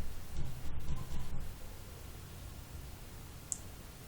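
A computer mouse clicks an OK button in business software: a few quick, faint clicks in the first second and a half, then quiet room hiss.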